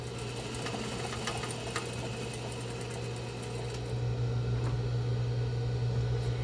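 A sewing machine stitches a fabric box-style face mask with a steady, close motor hum and rapid needle chatter, running unbroken and growing a little louder partway through as it back stitches.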